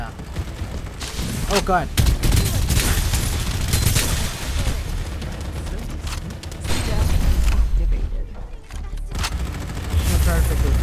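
Rapid bursts of automatic gunfire and booming shots from the battle royale game Fairlight 84 pound loudly and nearly continuously, with a short lull before firing resumes, as a player speaks briefly amid the shooting.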